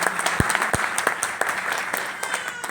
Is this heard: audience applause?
yes